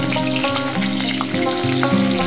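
Diced medium potato fries in oil tempered with cumin seeds, giving a steady close sizzle with light bubbling and crackle throughout.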